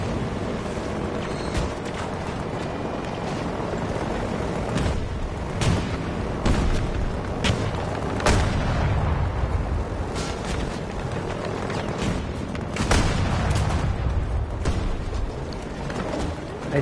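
Missile launches and blasts in a PS4 tank combat game, several heavy booms and sharp impacts scattered through a dense, continuous rumble of battle noise, no voices.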